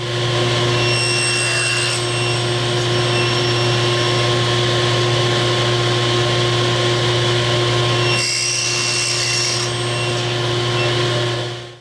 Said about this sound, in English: I'm going to rip them so that they're 3/4 inch wide